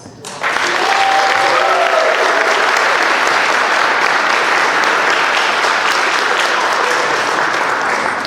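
A crowd at an award ceremony bursts into loud, continuous clapping that starts abruptly and stays full and even throughout, with faint voices mixed into the din.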